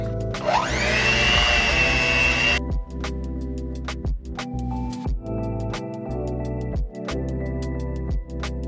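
A mixer blends a dry banana pudding base with a splash of milk, its motor spinning up into a loud, steady whir for a couple of seconds before cutting off, followed by a run of sharp clicks and taps.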